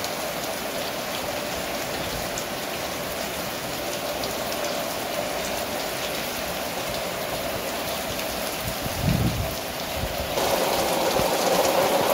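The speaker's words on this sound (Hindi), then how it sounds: "इतने टाइम अब तेज़ बारिश हो रही है" Heavy rain pours steadily with a constant dense hiss, no voices, and a brief dull knock near the end.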